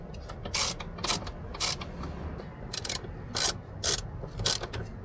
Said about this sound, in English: We use a wrench to remove them.